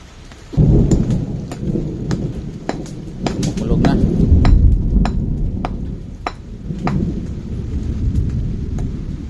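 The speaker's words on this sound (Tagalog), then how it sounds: "dito ulan lang ulan kulimlim may kulog pa" Heavy typhoon rain pours steadily while thunder booms and rumbles close by, with sharp drops clattering on a hard surface throughout.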